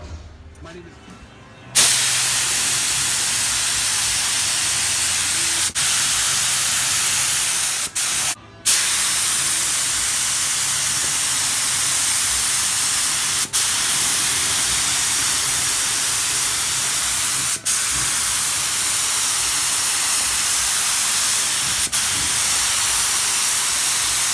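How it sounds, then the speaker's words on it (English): A spray gun lays paint on the hood of a 1967 Dodge Coronet, a loud, steady hiss that starts abruptly and runs nearly continuously, with one brief break and a few soft clicks. "All right, mixing up the paint. Hood is there, ready to go."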